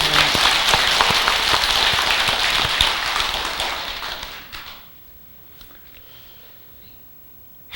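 Dense audience applause fills a Buddhist temple hall, loud and steady for several seconds before quickly fading into near silence.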